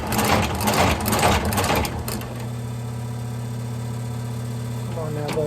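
A sewing machine runs steadily, stitching a Christian Louboutin shoe sole being upgraded to JR soles; a close, even mechanical hum with a rattling start over the first two seconds, then continuous droning.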